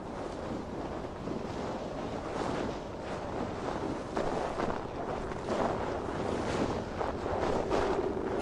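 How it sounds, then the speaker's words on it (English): Stormy wind gusts over the sea in Assassin's Creed Valhalla, a steady, dense roar with surging swells of wind and water noise, no voices. "Windy."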